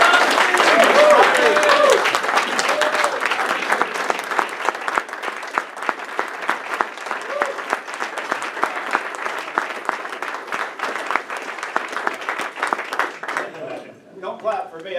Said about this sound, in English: Don't clap for me, I didn't do it.